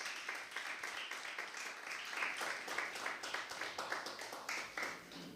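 A church congregation claps in a dense, continuous wash of applause that holds steady for several seconds at a moderate level, with no voices standing out.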